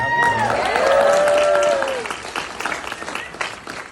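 A concert audience at a For King and Country live event cheers and applauds, with a strong burst of clapping and whoops that peaks early, then thins into scattered claps and cries as it fades.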